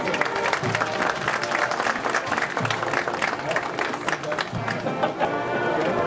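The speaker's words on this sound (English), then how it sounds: "Let's give a round of applause for the homecoming representatives from the class of 2028." Steady, dense crowd applause for homecoming representatives at a high school football game, Springfield vs Station Camp, a continuous clatter of many hands with faint cheers mixed in.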